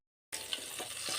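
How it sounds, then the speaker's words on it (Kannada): Curry leaves and green chillies hit hot oil as a garnish for chicken kebab, bursting into close, lively sizzling with sharp crackling pops over about a second. "ಗಾರ್ನಿಷಿಂಗ್ ನೋಡಿ ಈ ಥರ ಚಟಪಟ ಅನ್ನಬೇಕು"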